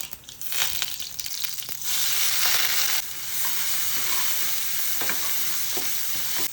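Crushed garlic with mustard seeds sizzles steadily in hot oil, a dense, close frying hiss with occasional crackles and stirring scrapes, with no talking.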